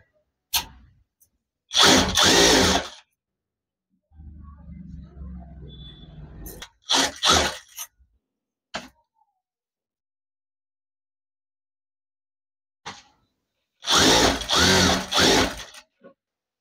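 A sewing machine stitches lining onto a silk saree blouse in several short bursts of rapid whirring, separated by silences, clicks and a low rustle of fabric being handled, close and fairly loud.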